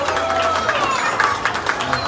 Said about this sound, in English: So we can give Chopper a big round of applause.